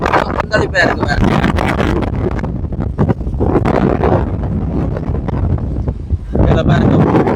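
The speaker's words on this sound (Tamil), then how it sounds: "கடுமையான காற்று வீசி கொண்டிருக்குது. கொந்தளிப்பா இருக்கு வேற." Strong wind buffets the microphone on a stormy Jaffna coast with rough sea, a loud continuous roar with gusty surges that swell near the start and again at the end.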